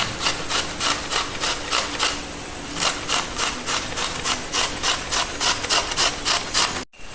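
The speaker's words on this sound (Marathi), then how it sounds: "छान अशी बारीक काकडी किसून घ्या." Cucumber grated finely on a hand grater over a wood fire in a Konkan kitchen, a steady rhythmic rasping of repeated strokes, close and fairly loud, with no talk.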